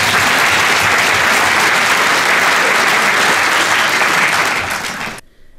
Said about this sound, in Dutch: Applaus voor uzelf.